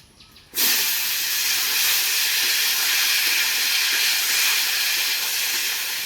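Chopped vegetables hit hot oil already seasoned with cinnamon and cumin in a village-style kitchen. A sudden burst of loud, close, hissing sizzle starts after a brief quiet moment and then holds steady to the end.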